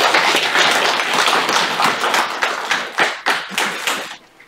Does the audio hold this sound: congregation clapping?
yes